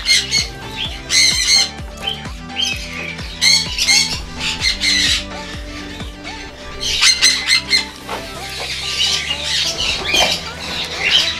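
Orange-winged Amazon parrots in an aviary let out loud, harsh squawks in repeated bursts, with brief quieter gaps between clusters of calls.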